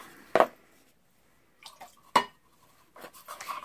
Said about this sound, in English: And then you dump your water.